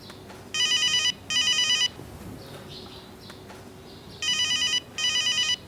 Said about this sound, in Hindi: राहील का फोन।